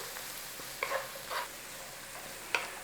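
Bacon hash fries in a pan with a quiet, steady sizzle and a few brief spatula scrapes and taps.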